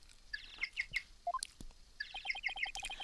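A cute penguin-like peeping ringtone in the courtroom game Ace Attorney: Dual Destinies, sounding as a string of bright, rapid electronic chirps in two bursts, close and clear with no one talking over it.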